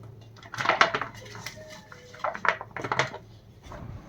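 Sliced raw mango pieces drop into a big basin in a home kitchen, making several clattering bursts in two clusters, close and moderately loud with no voices.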